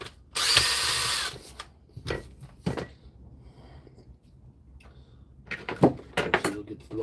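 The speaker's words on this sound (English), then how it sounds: "So we'll get her screwed apart here." A power drill spins briefly at close range, one loud sustained burst early on, followed by short clunks and handling knocks from disassembling a device in a repair workshop.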